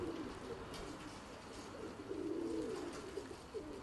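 Pigeons coo softly inside a pigeon loft, including a speckled, white-tailed hen, giving faint, low, rolling calls that repeat over a quiet background hiss, with no talking.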